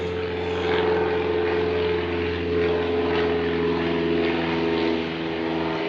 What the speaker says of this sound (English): A lot of planes today.